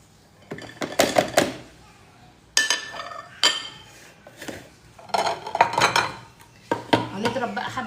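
Burger meat being mixed with black pepper and other spices in a bowl, giving bursts of clinking and scraping against the dish in several separate rounds, with quiet pauses between.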